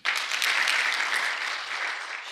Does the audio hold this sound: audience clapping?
yes